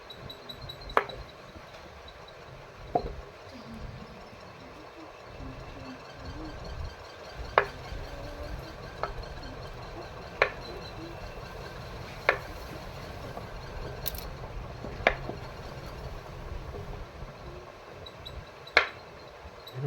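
A knife cuts a bar of handmade papaya soap into small pieces on a hard surface, with sharp, spaced chopping clicks every second or two over a quiet, low background hum.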